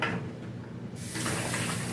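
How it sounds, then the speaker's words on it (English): Tap water runs steadily into a kitchen sink while a cutting board is rinsed under it. The splashing grows fuller and louder about halfway through, close by, with no speech. "Now I'm just rinsing off this cutting board."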